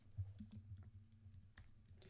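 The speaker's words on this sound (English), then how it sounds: "Get my fingers on the keyboard right." Soft, quiet taps on a computer keyboard come in a few irregular bursts, faint against a low steady hum.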